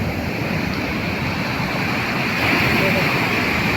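Sea waves breaking and washing up on a beach, a steady loud roar of surf with wind noise that swells slightly toward the end.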